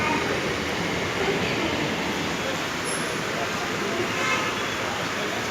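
A local train pulls into a busy station on a rainy day, giving a steady, loud, unbroken rumble and hiss throughout, with no clear horn, while a crowd murmurs faintly underneath.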